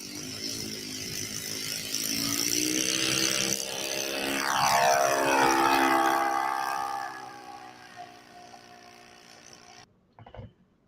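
A radio-controlled model airplane passes overhead at a model flying club field, its steady whirring motor rising and sweeping down in pitch as it flies by, then fading, with a brief knock near the end.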